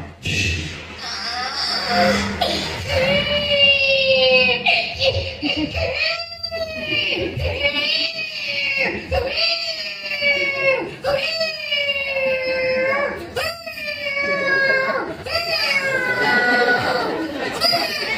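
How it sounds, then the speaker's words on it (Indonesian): An infant cries in repeated wailing bursts with falling pitch, loud and close, sustained throughout; no distinct cat sound stands out. "Suara bayi nangis dan kucing lewat."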